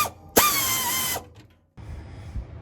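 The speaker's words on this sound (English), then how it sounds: "I got myself an air wrench" An air wrench fires in one short, loud, whining burst of under a second, followed by a pause and then softer clattering handling noise in a home garage.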